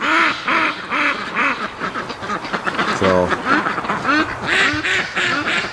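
Ducks quack repeatedly at a lake still mostly covered in ice, a loud close chorus of rhythmic nasal calls with a brief honking burst midway, while someone speaks over the birds.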